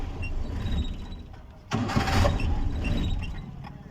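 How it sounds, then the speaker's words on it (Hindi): A Suzuki Ravi or Bolan with a carburetor engine and unlit meter lights cranks on the self-starter, catches with a loud burst, runs roughly for a couple of seconds, then fades and dies, heard close. "गाड़ी को सलफ लगाएंगे तो ये गाड़ी स्टार्ट होके बंद हो"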